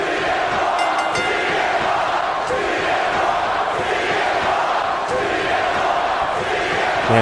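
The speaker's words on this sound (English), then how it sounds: "this crowd here in Lafayette, Louisiana just loves CM Punk" A dense wrestling arena crowd roars and cheers continuously in WWE 2K, an ECW show set in Lafayette, Louisiana, a loud, steady wash of many voices with no break.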